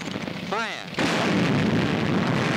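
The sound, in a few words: tank cannon firing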